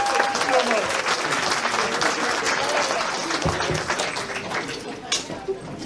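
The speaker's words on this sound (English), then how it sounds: "give your performers a huge round of applause" A convention crowd applauds performers on stage, loud continuous clapping with some cheering, and a voice speaks briefly over it.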